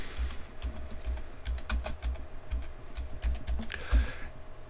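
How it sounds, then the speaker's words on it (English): Quick keystrokes clatter on a computer keyboard in a short run of irregular taps, some louder than others, close by in a quiet room with a faint low hum beneath. "And let's type in graphics cards."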